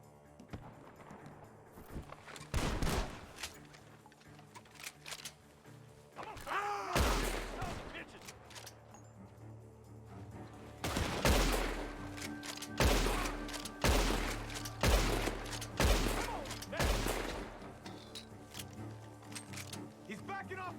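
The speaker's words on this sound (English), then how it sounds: "The gunshots are coming from that barn." Gunshots ring out from a barn in Red Dead Redemption 2, a series of sharp loud blasts in irregular bursts over game ambience with hoofbeats and footsteps, while characters talk between the shots.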